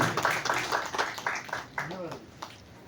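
An audience claps at a birthday celebration held near a centenary library hall, scattered rhythmic clapping heard under a voice, with talk continuing as the clapping thins out.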